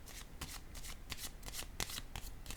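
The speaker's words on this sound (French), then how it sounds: "je vais piger une carte ici." Playing cards drawn from a deck and shuffled: a quick run of crisp, close riffling flutters and snaps in an irregular rhythm, quiet and alone.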